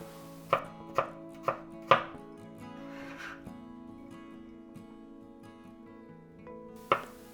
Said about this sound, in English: Slice the shallot.